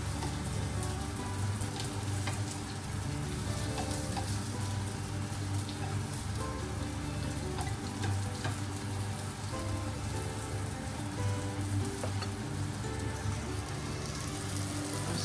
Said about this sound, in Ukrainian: Ось такі вони золотистою кірочкою смажилися.